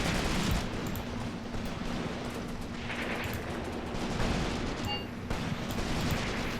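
Steady battlefield gunfire and distant artillery-like booms rumble continuously in Graviteam Tactics: Mius Front, a dense, loud fusillade with no voices present.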